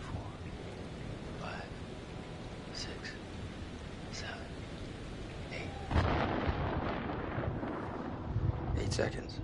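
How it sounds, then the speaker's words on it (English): Steady heavy rain and rolling thunder from the stormy setting of the video game Man of Medan, a continuous dense wash that swells louder partway through, with voices talking over it. "The storm's 8 miles away."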